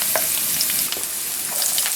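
Onions frying in olive oil in a pan while cooking yellow morel mushrooms, giving a steady close sizzle with small scattered pops and crackles and no talking.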